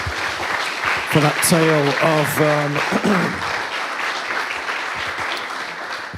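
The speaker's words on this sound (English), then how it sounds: "a round of applause first" Applause from an audience fills the clip, steady clapping under a voice speaking briefly over it.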